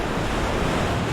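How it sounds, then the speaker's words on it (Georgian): Winter ocean waves wash loudly and steadily over the shore, a dense, continuous roar of surf with some wind buffeting. "ზამთრის ტალღები სანაპირო ზოლს საკვები ნივთიერებებით მდიდარი წყლით ტბორავს."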